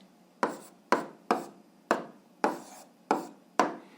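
A pen writing down an algebra answer, heard as seven evenly spaced short scratchy strokes, each a quick sharp attack fading out, close and fairly quiet with no talking.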